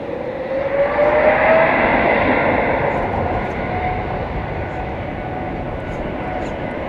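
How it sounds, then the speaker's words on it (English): An airplane takes off at night at DFW Airport, a loud roaring jet engine with a rising whine that peaks early and then holds as a steady, slowly receding roar. "Let's see how aggressive this takeoff is."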